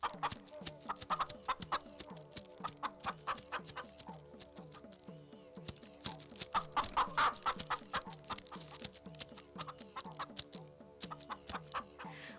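Hens cluck steadily and close by, a busy run of short repeated clucks with occasional louder calls, no talking.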